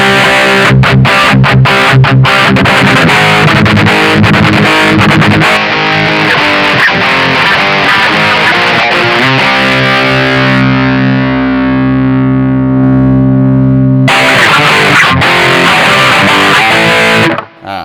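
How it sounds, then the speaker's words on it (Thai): Electric guitar played through an overdrive distortion effect, loud and continuous with heavy driven chords and sustained notes that ring out and fade before a final burst of playing; no talking. "เราอยากได้เสียงแตกมากแค่ไหนก็ไป"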